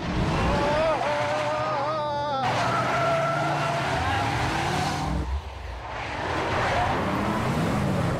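A car drives fast with a steady engine roar, and tires squeal in long skids. People talk over the engine noise.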